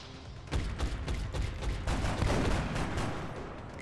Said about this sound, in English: We were actually shooting different aliens with those reaction shots